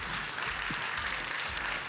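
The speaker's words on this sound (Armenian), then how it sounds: "Ծափարություններ մեզ դուքին" An audience on an Armenian television variety show claps in a dense, continuous round of applause that holds steady and fairly loud throughout.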